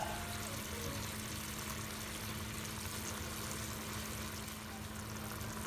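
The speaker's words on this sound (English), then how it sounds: "and going to add some water into it." Water being poured into a pot of Thai beef curry with coconut milk, a steady continuous rushing wash with a low hum underneath, even in loudness throughout.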